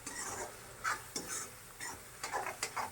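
A spoon stirs a garlic and onion curry with yogurt in a pan. Soft, irregular scraping strokes sound over a faint simmering sizzle, with no talking.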